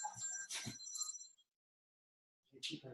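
A phone rings, a short electronic ring followed by a brief gap of silence and then another ring, close by and fairly clear, with no voices.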